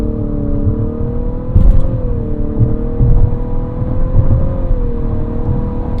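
A 2025 Infiniti QX55 with a CVT accelerates smoothly, its steady engine drone holding a near-constant pitch that rises gently and eases back without distinct gear shifts, heard from inside the cabin.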